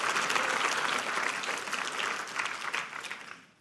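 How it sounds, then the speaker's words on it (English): Sustained audience applause fills a conference hall at a closing plenary session, dense and steady before tapering off near the end. "You can applaud."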